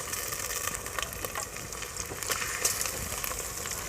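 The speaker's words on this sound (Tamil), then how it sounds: "இப்போ வந்து சிக்கன் சேர்த்து வதக்கிக்கலாம்" Chicken pieces sautéing with onions in a pan of oil for a village-style chicken gravy, a steady broadband sizzle with scattered crackles, close and fairly quiet throughout.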